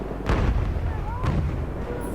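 Two heavy booming shots about a second apart in Battlefield 1, deep and distant-sounding, with a voice speaking briefly between them.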